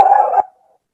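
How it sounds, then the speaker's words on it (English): A single loud dog bark or yelp bursts out close by during a Humboldt County Human Rights Commission meeting, lasting under half a second before dropping to a faint tail and silence. "Apologize for that loud dog."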